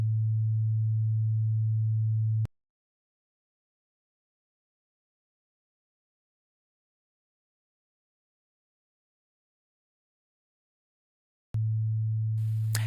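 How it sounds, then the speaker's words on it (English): A steady low pure tone hums loudly, cuts off abruptly into several seconds of silence, then resumes at the same pitch. "I can record that sine wave, maybe something like 10 or 15 seconds"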